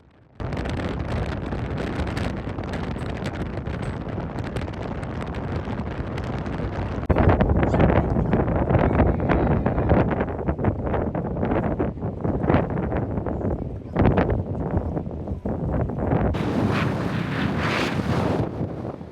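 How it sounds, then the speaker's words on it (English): Strong wind buffets the microphone on a ship's front deck in a Norwegian fjord, a loud, continuous roar that surges and gusts harder partway through, with a faint wash of water beneath. "You can probably hear from some other clips all the wind flapping"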